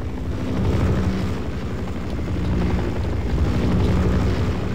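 A helicopter in Half-Life 1 Source makes a continuous low rotor thrum and rumble in the distance, swelling slightly in loudness and heard without talk.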